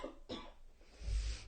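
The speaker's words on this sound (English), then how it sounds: "I still have this cough" A single short, soft cough from a person recovering from a cold, close and quiet, with a light throaty burst at the end.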